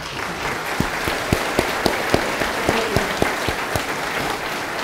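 An audience at an evening talk on defeating ISIS applauds to welcome the speakers, with steady dense clapping and a few sharper claps standing out, continuing throughout.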